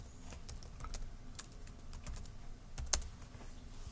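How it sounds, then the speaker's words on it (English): Computer keyboard typing a column name into an SQL query, a quiet run of light, irregular keystrokes with a couple of sharper taps, no talk. "So if I type in first name here,"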